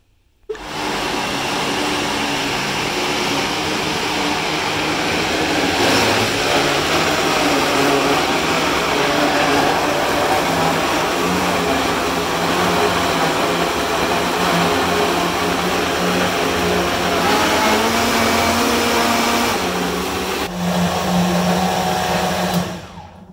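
A blender whirs loudly and continuously for about twenty seconds, blending raspberries and other fruit into a smoothie, with a shift in tone near the end before the motor cuts off.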